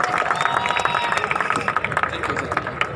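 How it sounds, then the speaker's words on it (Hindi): Audience applause at a large Mi Lifestyle Dream Day program in Panvel, Mumbai, crowd clapping steadily and densely for about three seconds, with cheering and babble mixed in. "जोरदार तालियां होनी चाहिए हमारे सर के लिए"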